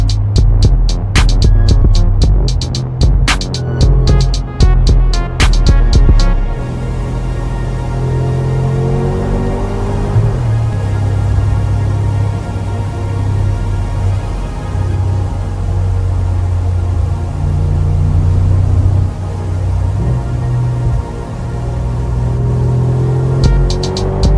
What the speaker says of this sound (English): And the sound on it is glorious, proper V8.